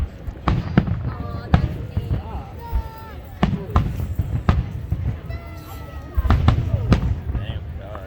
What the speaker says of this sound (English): just shoot off all the fireworks at once.